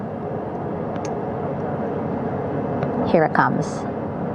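A rescue helicopter approaches over the sea to recover astronauts after a space mission, its steady, broad rotor and engine drone filling the scene while a voice speaks over it.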